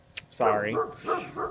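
A neighborhood dog barks loudly and close, giving a couple of short yipping barks that run into a longer, whining vocal. A person speaks briefly at the start.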